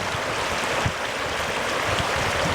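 A swollen creek after four days of heavy rain rushes past with a loud, dense, continuous roar of flowing water, heard up close with no voices.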